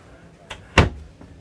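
Closet door in a teardrop camper trailer swinging shut with one sharp, close thump, preceded by a softer knock and followed by a faint tap.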